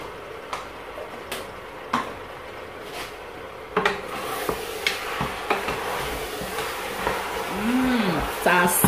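Meat cooks uncovered in a pot with no water for a Tabaski festival meal, giving a steady soft sizzle broken by scraping stirs and light clicks, with occasional voices nearby.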